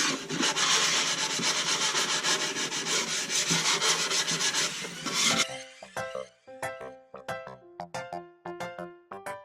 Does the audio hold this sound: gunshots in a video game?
no